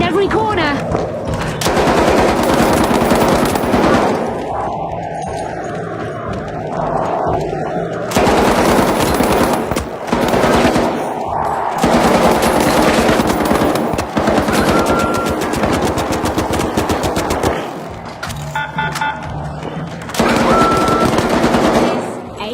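Dense, loud video-game gunfire, long bursts of rapid machine-gun shots with brief lulls, close and dominating, with game sound effects underneath.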